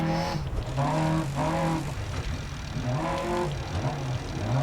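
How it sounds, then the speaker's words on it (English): A faulty car engine in the rally racing game DiRT Rally 2.0 revs up and down unevenly, rising and dropping in pitch with a rough, straining tone, loud and close. "You can hear, I think there's a problem with my engine."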